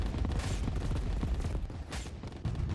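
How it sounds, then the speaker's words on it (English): A missile barrage in the strategy game Rogue Command, a dense, continuous rumble of overlapping blasts and booms with bursts of crackle, loud and unbroken throughout. "I have like a big battery of missiles coming down now in this area"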